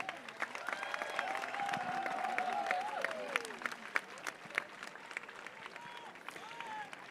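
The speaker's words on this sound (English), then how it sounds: "A big round of applause for all the guests who are there in the dais" A crowd at a rural sports festival in Coimbatore claps for guests seated on the dais, sustained applause with scattered sharper claps and some tonal sound or voices mixed underneath.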